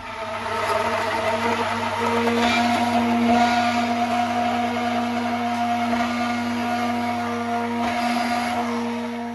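A blender whirs steadily and loudly near the mic for about nine seconds, churning butter fruit with milk and sugar into juice, its motor drone holding constant without speech.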